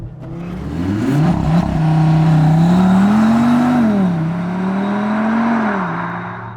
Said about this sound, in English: we must start with a launch control. So I've put the car in RS performance now